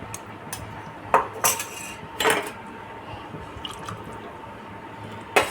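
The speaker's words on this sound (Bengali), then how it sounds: "সেই জন্যে অল্প একটু জল দিলাম।" Water goes into a pot of prawn malai curry with a few scattered drips, splashes and light clinks of metal, all quiet against a soft kitchen background.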